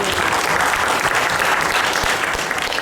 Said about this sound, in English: Let's give a round of applause for this expat club because it's a great club